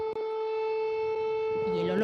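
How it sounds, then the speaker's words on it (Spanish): Air raid sirens sounding in Kyiv at dawn at the start of war, a steady sustained wail with rising tones near the end, mixed with faint background noise. "En Kiev amanecían con el sonido de sirenas."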